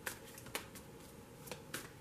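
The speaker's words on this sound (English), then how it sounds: "I have pre-shuffled, so I'm only going to shuffle for a moment." Tarot cards being shuffled by hand for a brief moment, giving several soft, crisp riffling bursts spaced roughly half a second apart over low steady room noise, close by with no talk.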